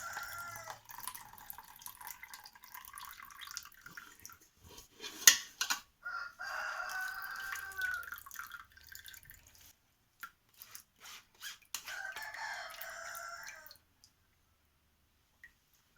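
Boiled hop liquid, simmered for about an hour and a half, is strained and drips and trickles into a container. Faint intermittent dripping with small clinks, then a short quiet stretch near the end.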